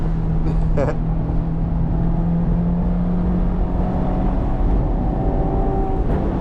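A Mazda ND3 Miata driven hard on a public road, its engine and road noise forming a loud, steady close-up drone that never lets up, with a few brief higher tones near the start.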